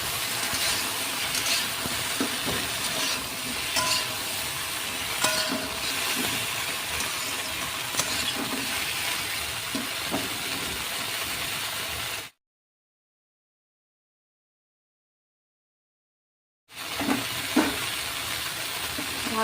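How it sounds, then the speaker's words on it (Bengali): Okra sautéing in hot oil in a pan, giving a steady close sizzle with occasional stirring scrapes, broken by a few seconds of silence before the frying resumes. "এবার আমি ভালো করে একটু কষিয়ে নেব।"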